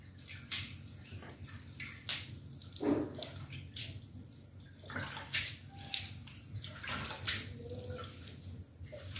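Water splashes and pours while a dairy buffalo's udder is washed by hand, in irregular close splashes and trickles against a steady low background hum, with no speech.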